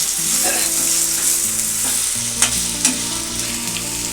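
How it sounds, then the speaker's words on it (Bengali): Steady sizzle of potatoes frying in a pan with occasional scraping stirs and a couple of sharp clicks of a utensil, close and fairly loud. "আলুগুলো যখন এর সাথে ভাজা হয়ে যাবে"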